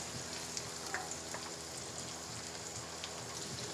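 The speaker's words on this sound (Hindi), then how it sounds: "अब हम इसमें टमाटर ऐड करेंगे और इनको भी 2 से 3 मिनट इसको फ्राई कर लेते हैं" Tomatoes fry in a pan with garlic, ginger and onion, giving a steady, even sizzle and crackle with faint pops throughout, close and alone without voices.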